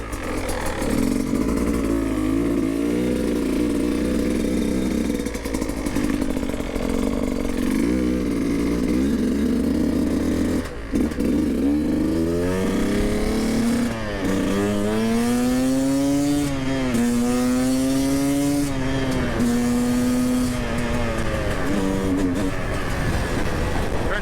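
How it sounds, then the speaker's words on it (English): A 2019 Beta 200RR two-stroke dirt bike is out on a riding run. Its engine drones loud and steady, then winds up through rising, falling revs as it speeds up and lets off the throttle. "first shakedown ride on the 2019 200RR."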